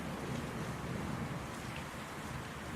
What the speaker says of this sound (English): The rain beats down ceaselessly.